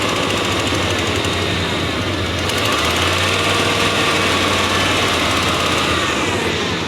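A shop truck engine runs close by with a loud, steady, even drone and no obvious misses or surges.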